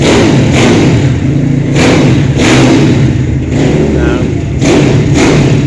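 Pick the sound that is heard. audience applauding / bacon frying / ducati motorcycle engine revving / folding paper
ducati motorcycle engine revving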